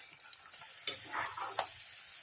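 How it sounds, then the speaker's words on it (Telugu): Taro root (arbi) frying over a medium flame in a pan, a soft close sizzle broken by a few sharp clicks and scrapes of stirring. "మిడిల్ ఫ్లేమ్ మీద మాత్రం పెట్టి ఫ్రై చేసుకోవాలి"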